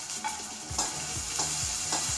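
Onion and ginger frying in coconut oil for a Kerala-style beef roast, a continuous bright sizzle broken by regular stirring scrapes of a utensil in the pan, close and without speech.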